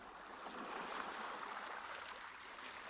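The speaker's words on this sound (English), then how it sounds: "Far below, the sea moves against the rocks in a slow, even rhythm" Sea waves moving against rocks far below on the Greek island of Hydra, a soft continuous hush of water, faint and distant, with no other sounds.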